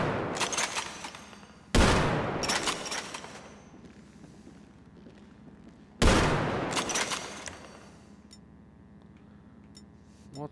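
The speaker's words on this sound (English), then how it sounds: "Pump action shotgun." A pump-action shotgun fires in a video game: one blast opens, then two more loud, close shots follow several seconds apart, each trailing off in a long echo, with a few light mechanical clicks near the end.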